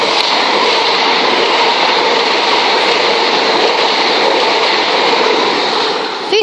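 A Southeastern Class 375 electric multiple unit on a London Bridge to Hastings service passes Brockley on the Brighton Main Line, a loud, close, steady roar of wheels and traction noise lasting throughout with no talk.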